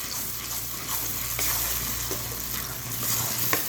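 Bread halwa is stirred in a pan on a stove, a steady close sizzle with soft scraping and stirring strokes throughout and a faint low hum underneath.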